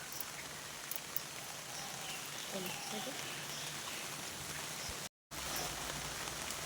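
Steady rain falls on a village garden, a dense even hiss of drops on leaves and ground, fairly faint and continuous, with a brief break in the middle.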